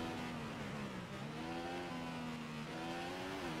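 Formula 1 car engine in the racing video game F1 2015, a loud continuous high-pitched whine whose pitch climbs and drops with gear changes and throttle, steady throughout with no talking.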